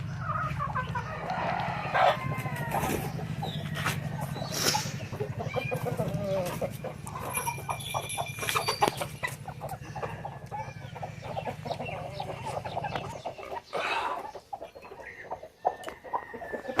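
Bhimavaram breed chickens on a poultry farm cluck and crow close by for an extended stretch, with people talking intermittently in the background.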